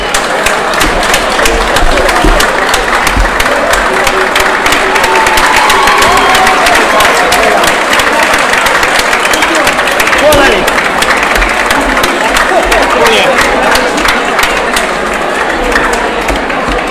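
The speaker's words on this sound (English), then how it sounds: "Round of applause for these." A crowd at a boxing event applauds and cheers the boxers, loud sustained clapping mixed with shouts and whistles that carries on throughout, with people talking over it.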